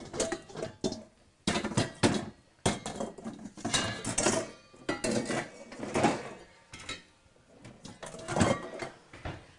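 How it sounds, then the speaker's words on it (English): Cooked lean venison being strained into a bowl, heard as a run of clattering metal and dish knocks and scrapes in irregular bursts, close by, with no voices. "I strain it into this bowl."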